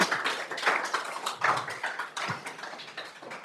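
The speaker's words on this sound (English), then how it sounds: "A round of applause." A room full of people applauds after an International Women's Day fireside chat, giving dense, continuous clapping for a few seconds with no voices over it.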